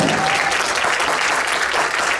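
A lecture audience breaks into steady, close applause, a thick wash of many hands clapping without pause from start to finish.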